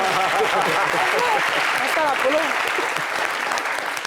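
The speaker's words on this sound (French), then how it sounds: "Applaudissez ça." Audience applause fills a hall at a French-language entertainment show, sustained and loud throughout, with a host's voice speaking over it.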